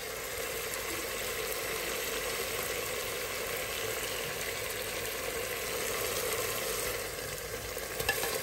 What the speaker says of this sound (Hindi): तो ये मैंने लौकी अच्छे से डाल के मिक्स कर दी है।